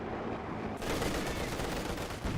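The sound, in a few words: machine gun fire in the video game Company of Heroes 2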